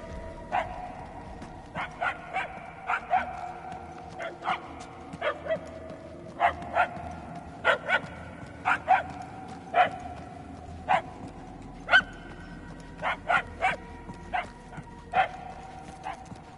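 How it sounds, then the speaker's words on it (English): Repeated dog barks in the Guardians of the Galaxy video game, about twenty sharp yelps coming in irregular bursts over a low ambient game background, moderately loud and without talk. "The constant barking is annoying enough."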